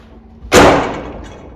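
The top cover of a Kassbohrer curtain-sided semi-trailer slams shut with a single loud, sharp thud that rings briefly and fades.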